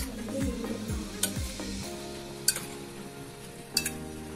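Oil heating and sizzling in a pressure cooker on the stove, a steady frying hiss with a few scraping stirs early on and sharp metallic clinks later, close and fairly quiet, no voices.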